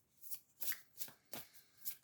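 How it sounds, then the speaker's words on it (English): Oracle cards from a Reflection Mindful Rituals deck being shuffled by hand, five crisp riffling bursts in an even rhythm, close and fairly quiet, with no talking. "we're going to pull an oracle card first of all from the Reflection Mindful Rituals cards"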